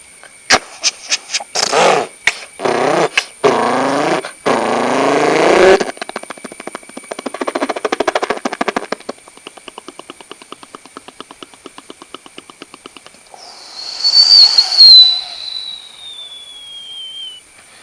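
A voice mimics vehicle sounds: sputtering motorcycle revs and a rapid chopping helicopter-like rattle, then a rising, falling whistled whine like an aircraft.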